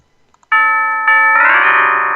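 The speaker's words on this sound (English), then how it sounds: "Stop ringing that doorbell!" A doorbell rings loud and close, two bright chimed tones struck in quick succession, the second note lingering and ringing out.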